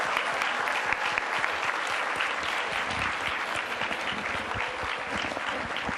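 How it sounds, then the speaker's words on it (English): A crowd of incoming freshmen and guests at a university investiture ceremony applauds for the class, a sustained, even stream of many hands clapping from start to finish. "Again, give yourself a round of applause."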